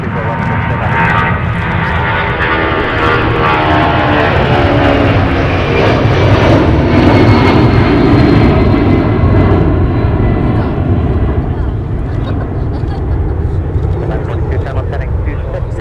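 A Delta airliner departing Minneapolis–St. Paul airport roars steadily and loudly throughout, its engine tones slowly shifting as it climbs away, with a voice faintly audible beneath the noise.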